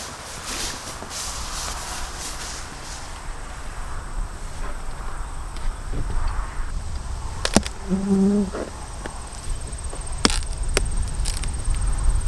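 Honey bees buzz around honey supers on a farm hive topped with fume boards, a faint, continuous hum broken by a few sharp knocks and clicks.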